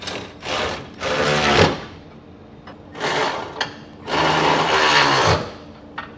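A 3/4 inch socket wrench ratchets as it snugs down the bolts of a B&W underbed gooseneck hitch in a 2023 Chevrolet Silverado, in three close, sustained bursts of rapid mechanical clicking separated by short pauses.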